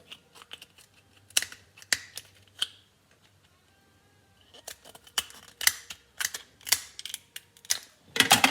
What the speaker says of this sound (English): One cut on each side of the shell.